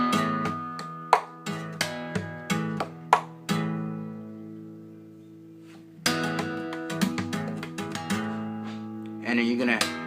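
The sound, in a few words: percussive guitar pattern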